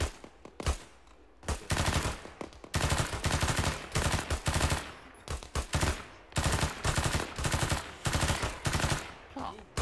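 Automatic gunfire in the ArmA 3 video game, long rattling bursts of rapid shots separated by short pauses, loud and close, repeating in bursts for the whole stretch.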